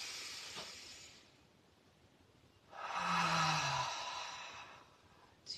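A long, breathy exhale out through the mouth during a spring yoga session swells up loud and close for a couple of seconds, following a softer earlier breath over a quiet background hiss.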